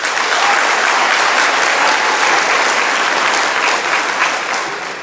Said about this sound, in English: If this is your first Visions, please clap your hands.